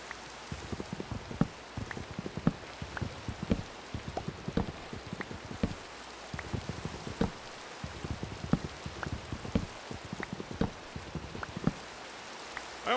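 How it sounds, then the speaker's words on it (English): Minecraft rain falls steadily, with dense, irregular patters of drops striking surfaces, close and even throughout, with no voices. "Not night, it's just dark because it's raining."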